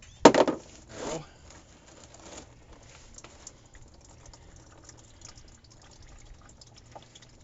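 Oil drain plug bolt from a Ford F-150 dropping into a drain pan, a sharp metallic clatter and splash near the start followed by a second softer clunk, then a quiet workshop.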